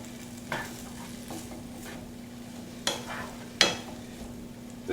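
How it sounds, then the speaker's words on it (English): Vegetables sautéed in a pan with a drizzle of low sodium soy sauce give a soft, steady sizzle, broken by a few quiet scraping stir strokes and light clacks. "And I'll go ahead and stir that in there."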